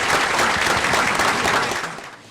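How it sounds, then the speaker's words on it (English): Steady, dense applause from an audience at a city schools board of education meeting, loud and close, tapering off at the end. "Give them a round of applause."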